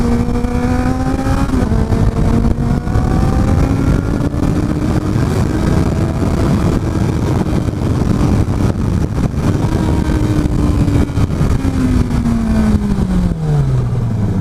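A Honda Accord engine revs loudly and climbs in pitch through several gears, each upshift briefly dropping the tone before it rises again, then it eases off and winds down at the end, steady and close with no talking.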